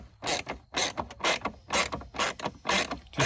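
A ratchet on a long extension backs out the 7mm bolts holding the instrument cluster of a GMC Jimmy/Blazer, giving rapid, close ratcheting clicks in a steady run of short bursts with no talking.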